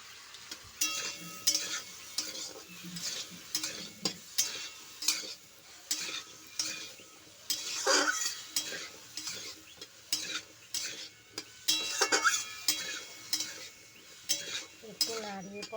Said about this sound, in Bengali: একটু নাড়িয়ে পরে জল দিয়ে দিলাম।